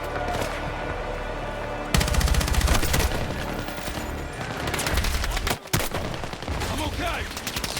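Intense gunfire in Battlefield 6, rapid machine-gun bursts and overlapping shots forming a near-continuous loud fusillade, with a brief dropout before the firing resumes.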